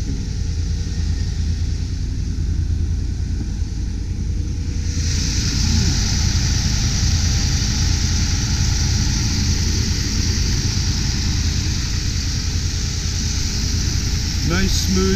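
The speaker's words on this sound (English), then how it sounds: "Nice, smoothly running engine, clean engine bay." A 1989 Chevy Caprice Classic station wagon engine idles with a steady, low rumble throughout, with a slight shift in tone partway through, close by and fairly loud.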